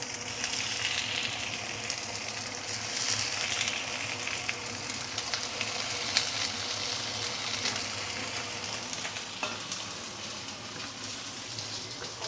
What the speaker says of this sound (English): So let's pan fry the first side for about 2 minutes before I flip it over to the other side